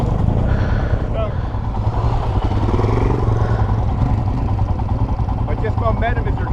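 A Royal Enfield Himalayan motorcycle pushes off-road through a water crossing, its engine droning steadily and loudly up close with a broad wash of churning, splashing water, and brief vocal sounds surfacing now and then over the noise.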